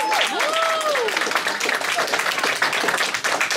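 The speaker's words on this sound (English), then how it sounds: "Give yourselves a round of applause." Audience at a poetry night applauding steadily and loudly, with a few whistles rising over the dense clapping throughout.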